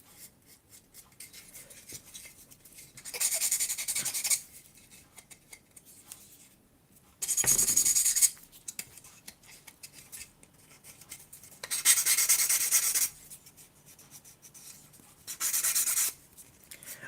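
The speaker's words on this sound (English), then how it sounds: "use my UMP sanding sticks to try and remove some of these burrs" Sanding sticks scrape burrs off plastic model kit parts: four separate bursts of close, dry, rasping friction, each lasting about a second, with quiet pauses between them and no talking.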